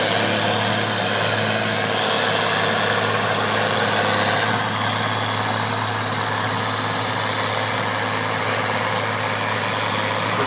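A modified tractor's engine drones loud and steady during a tractor pull at Fieldays in New Zealand, a constant heavy roar with a slight shift in pitch midway, no voices over it.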